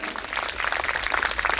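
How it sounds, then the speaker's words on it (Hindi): An audience at a devotional stage event for the Shiv Tandav Stotram claps throughout, a steady dense patter of applause at moderate distance with no talk over it. "आप लोग भी ताली बजाकर साथ देंगे ना?"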